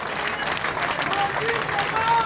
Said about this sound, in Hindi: एक बार जोरदार तालियों से मंजू जी का स्वागत और अभिनंदन कर।